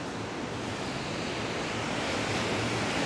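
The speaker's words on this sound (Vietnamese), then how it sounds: "Đây là không gian bờ biển này." Ocean surf on the beach at the Sheraton Grand Danang resort, a steady close wash of breaking waves with wind, no voices.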